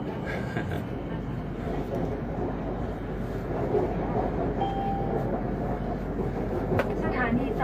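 An electric train at a station gives a steady rumble of rolling cars with some clatter and brief squeals, loud and close throughout.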